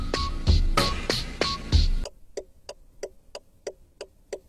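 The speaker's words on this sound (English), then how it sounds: "The beat at the start sounds like an alarm clock or an indicator." A steady ticking beat at the start of a song, like an alarm clock or a car indicator: sharp, evenly spaced clicks that continue alone after a denser musical opening.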